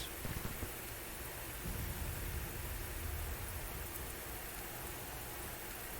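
Steady rain in the Civil War strategy game Grand Tactician, a dense, even hiss of downpour with low rumbling underneath, faint and continuous with no voices.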